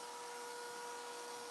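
A vacuum cleaner running during cleanup after bathroom renovation demolition, a continuous steady whine with a sharp tonal hum, close and loud, no talking.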